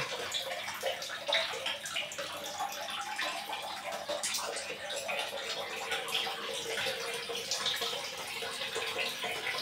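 Tap water runs steadily in a home bathroom during cleaning, a continuous close hiss and splash with no break.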